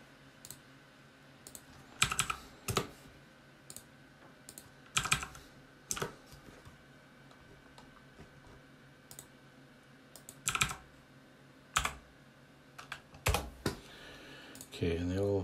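Typing numbers on a computer keyboard while building an RPG inventory in Unity: sparse bursts of key clicks in short clusters, with quiet stretches between and a soft low room hum underneath.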